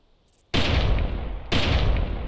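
Gunfire in the hunting game The Hive Mandibles: after a quiet start, two loud, sharp shots go off about a second apart, each with a long, noisy tail.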